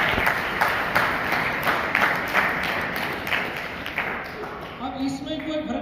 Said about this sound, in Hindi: तो अपने लिए ताली बजाओ।